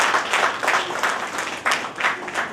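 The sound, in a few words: applause for Dr. Nisha Vanarse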